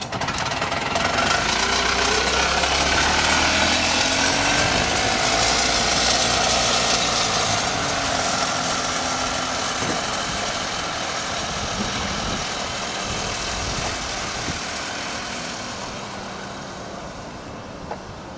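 An AMF Harley Davidson three-wheel golf cart drives along a road, its small engine chugging loudly with a knocking idle-like beat that slowly fades as the cart moves away, no talk.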